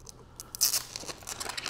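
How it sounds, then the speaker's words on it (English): Sticky tape peeling off a new Epson SureColor P5370 printer during setup in a few quick, crackly rips, close by and fairly quiet, with light crinkling between pulls. "We pull off the tape,"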